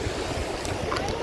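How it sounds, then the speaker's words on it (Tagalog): Strong ocean waves surge against the shore near a bridge on a Mindoro beach, a close, continuous wash of surf with a brief splashing burst midway. "Malakas nga lang yung alon, so bawal sa mga bata."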